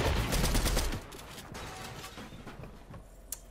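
Gunfire in Fortnite: a dense burst of rapid shots in the first second, then sparser distant shots and clatter at lower level through the rest.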